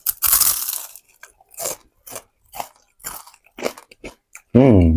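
Pineapple is bitten and chewed close up, a loud crunch followed by a series of short wet crunching chews with quiet gaps between them, ending in a brief voiced sound.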